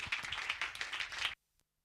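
An audience claps for a speaker at a talk, a brief burst of close, dense applause that cuts off abruptly into silence.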